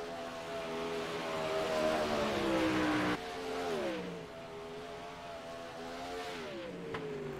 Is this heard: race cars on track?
yes